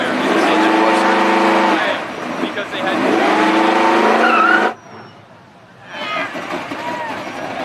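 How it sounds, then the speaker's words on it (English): A car revs hard and spins its tires, loud harmonic engine whine with squealing rubber for several seconds, then a sudden cut to near quiet before revving resumes. A voice speaks briefly. "Trying to rev the tires a little bit."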